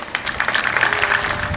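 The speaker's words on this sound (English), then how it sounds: "Give yourself a round of applause." A crowd at a graduation ceremony applauds with brief, continuous clapping at moderate loudness.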